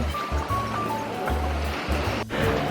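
Sea waves rolling onto a beach on Koh Phangan at high tide, a steady close wash of surf with low rumbling swells and faint voices underneath.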